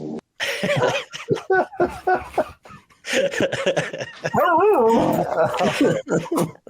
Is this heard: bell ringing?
no